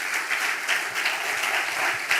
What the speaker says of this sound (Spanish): Dele ese fuerte aplauso al Rey.